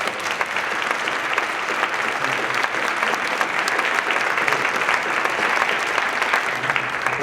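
Sustained audience applause at a creative placemaking summit, dense steady clapping from a crowd thanking a panel, loud and unbroken for several seconds with no talk over it.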